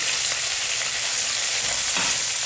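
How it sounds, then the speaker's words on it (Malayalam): Ginger, green chili, onion and curry leaves sauté in hot oil for kappa upma, giving a dense, continuous sizzle up close. "ഇനി ഇതിലേക്ക് ഇഞ്ചി, പച്ചമുളക്, ഉള്ളി ഒന്ന് നന്നായിട്ട് മൂപ്പിച്ചെടുക്കുക"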